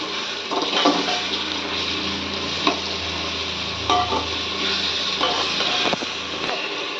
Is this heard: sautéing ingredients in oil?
yes